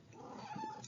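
A house cat meows faintly and briefly nearby, a thin drawn-out call over a steady background hum.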